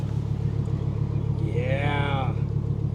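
A 1997 Volvo 850 Turbo engine idling with its exhaust rumbling low and steady close by, a brief rising whine over the top, while people talk over it.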